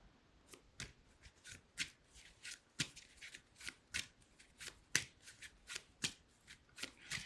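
A deck of playing cards is shuffled over and over, each riffle giving a crisp burst of flutter and snap at an irregular rhythm, close and fairly quiet, with no talking.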